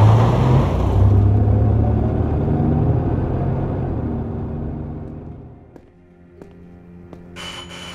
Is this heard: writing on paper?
no